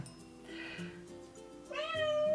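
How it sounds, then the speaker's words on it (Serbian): A cat meows twice indoors, the second call longer and clearer, both fairly faint over a low background hum. "Mačka."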